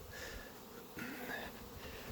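Honey bees buzz around a beehive colony that holds a honey super, giving a faint, steady hum with a slightly louder swell partway through.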